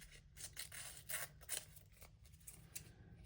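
Scissors snipping through paper to cut out stickers, quiet close-up crisp snips and rubbing in an irregular rhythm.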